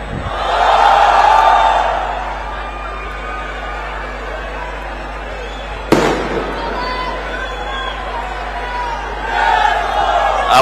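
A large crowd at a political rally shouts and roars, loud near the start, settling to a steady murmur, then a sharp bang and rising cheers again toward the end.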